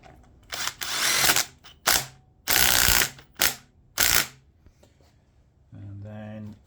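A ratchet wrench tightens a nut on a Honda CB400T Dream motorcycle: several loud, close bursts of rapid clicking ratchet strokes separated by pauses, with a short voiced sound at the end.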